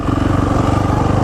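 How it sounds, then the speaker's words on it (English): Yamaha motorcycle engine idles close by, a loud steady pulsing putter with an even rapid firing rhythm throughout. "Is your bike still running?"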